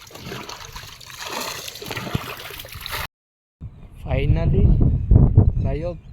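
Water splashes and trickles as it is bailed out of a boat, with sloshing and pouring noises, a short silent gap, then people talking loudly over the splashing.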